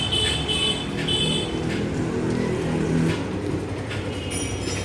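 A Yamaha FZ motorcycle on a short test ride after clutch work, its engine note steady and moderately loud, with brief higher tones flickering above the running hum.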